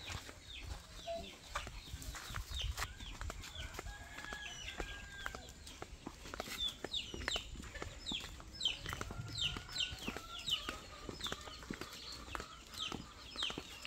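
Chickens on a Filipino farm cluck and call in an irregular run of short, sharp notes over a low outdoor rumble. The birds sound fairly close and keep calling throughout, with no one talking.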